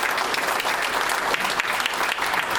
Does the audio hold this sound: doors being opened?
no